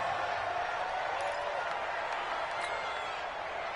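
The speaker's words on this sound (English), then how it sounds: "The crowd getting into it as we come up on a big 3rd down" Crowd noise in a football video game before a big third down, a steady, fairly faint wash of cheering and murmur that holds throughout, with no clear speech.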